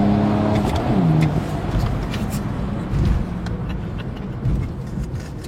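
A diesel car engine with a stage 2 tune roars loudly from inside the vehicle as it accelerates hard, the pitch climbing and dropping between gears, with brief voices heard over it.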